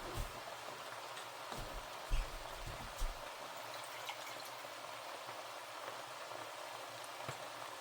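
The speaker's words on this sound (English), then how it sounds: "So now we're going to add in 8 cups of water." Water poured into a pot of Irish stew makes a steady, hissing splash with a few heavier glugs and knocks early on, then settles into an even pouring rush.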